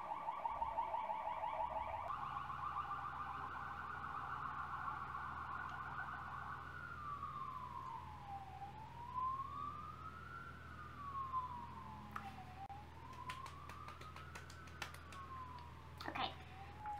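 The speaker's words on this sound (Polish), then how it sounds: "karetka jedzie" An ambulance siren sounds through the whole stretch, first a rapid high-low warble and then a slow rising and falling wail, steady and fairly near over a low traffic rumble, with a few brief clicks late on.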